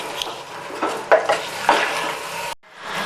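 Minced goat meat stir-fried in a pan with cumin and salt, a spoon scraping and clattering against the metal over a soft steady sizzle, with a few sharper knocks, before a brief near-silent pause at the end.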